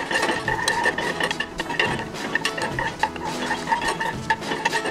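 A utensil stirs melted coconut oil in a metal pot, with steady, close scraping and clinking against the sides and bottom. The strokes come in a continuous rhythm and no one speaks.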